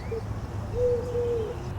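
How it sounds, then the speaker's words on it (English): A dove in India gives soft, low cooing notes, one short call followed by a longer drawn-out coo, moderately close over a faint background hum. "a grey to pinkish bird cooing in bass notes"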